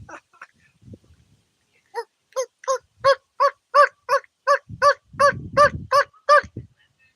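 Wild turkeys call near a property, a run of about a dozen evenly spaced, honking gobble-like notes that rise to loud, with faint rustling and low noise underneath.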